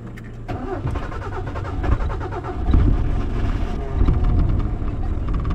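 Car engine turning over and catching, then settling into a steady idle at a riverside campsite, close and continuous with low rumble and some clatter throughout.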